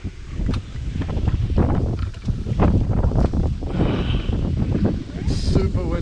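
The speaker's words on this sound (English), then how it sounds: "It's super windy." Strong coastal wind buffets the microphone in gusty, continuous roaring bursts near Puertecitos on the Baja coast, with a voice talking intermittently over the blustery rush.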